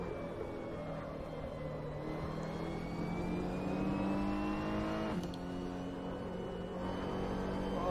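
A Ferrari 488 GT3 race car in Assetto Corsa drones steadily, its engine pitch rising and falling through gear changes, with one sharp click partway through and a continuous, fairly loud whine.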